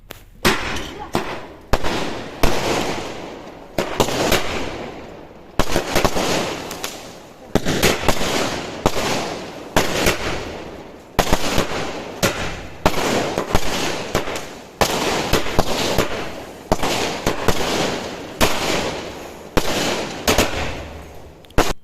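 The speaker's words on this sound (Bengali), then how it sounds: "পুজো শেষে আমরা ছাদে গিয়েছিলাম বাজি ফাটাতে।" Firecrackers bursting on a rooftop after a puja, a long run of sharp, loud cracks and pops coming in dense rapid clusters with brief lulls, some bursts overlapping into crackling volleys, with faint voices now and then.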